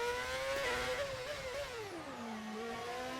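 A modded V8 race car engine in a racing video game wails at high pitch, rising and falling through gear shifts, steady and loud with no voices.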